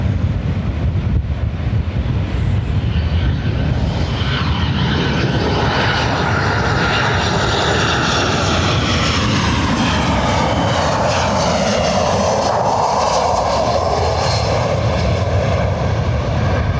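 Condor Airbus A321 airliner engines roar continuously at Lanzarote Airport, a loud, sustained rumble with a slowly shifting whine, heavily mixed with gusting wind buffeting the microphone throughout.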